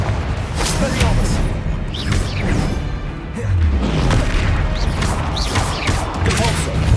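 Spell blasts from the Hogwarts Legacy video game crash and boom in quick succession, with whooshing casts and mechanical clatter under a loud, continuous wash of effects.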